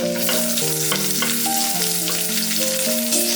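Onion sizzling in a pan for one-pot veg pulao, a constant close crackle under a sustained background of steady musical tones, no voices.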